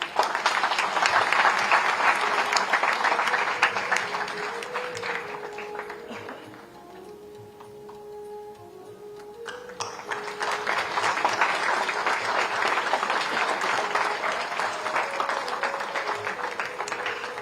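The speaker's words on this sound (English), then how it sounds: "Can you have a round of applause, please?" Audience applause at a felicitation ceremony for the Chief Justice of India, Justice B.R. Gavai: sustained crowd clapping that dips partway through before swelling again, with a faint tonal hum underneath.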